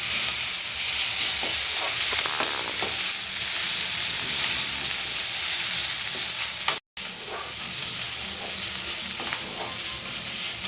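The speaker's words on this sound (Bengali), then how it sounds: "আমার আদা রসুনটা একটু ভাজা ভাজা হয়ে যাচ্ছে" Steady, loud sizzling of ginger and garlic frying, with occasional stirring scrapes and a brief dropout partway through.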